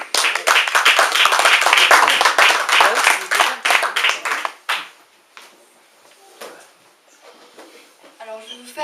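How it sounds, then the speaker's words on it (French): An audience at the Espace Léo Ferré applauds a performer, Lucie Plane, in a dense, loud burst of clapping that thins out into scattered claps and fades to near quiet. "Merci de l'applaudir bien fort."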